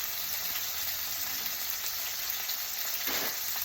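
Steak frying in oil in a pan, a steady close sizzle with a brief louder crackling flare near the end, no talk.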